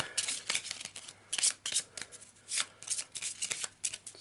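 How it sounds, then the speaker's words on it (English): A deck of Arkham Horror board game cards is riffle-shuffled close by in a rapid series of crisp bursts, about a dozen in four seconds, with no talking. "So, quick shuffle"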